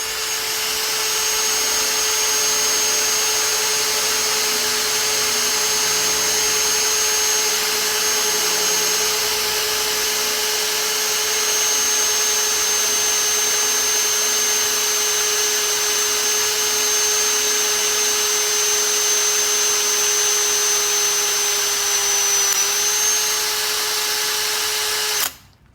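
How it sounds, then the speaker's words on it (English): Power drill boring through the center of a multi-layered workpiece with oil lubrication, a loud steady high whine held for about twenty-five seconds, dipping slightly in pitch near the end before cutting off abruptly. "the drill is going to get pretty hot. We're going to drill through the center"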